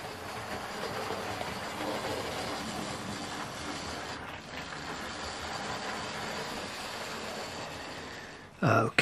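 A model train locomotive reverses along a Cheddar Valley Strawberry Line layout run by a Gaugemaster combi controller, giving a steady, fairly loud mechanical rumble and hiss that carries on without a break and ends with a brief clatter.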